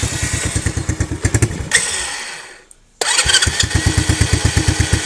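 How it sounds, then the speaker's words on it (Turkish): Motorcycle engine in cold weather in Germany, started and revved: a loud pulsing idle with throttle blips, a brief cut-out and silence, then a sharp restart back into rapid, steady firing. "Motor soğuk olduğu için tam gaz yemiyor arkadaşlar şu an."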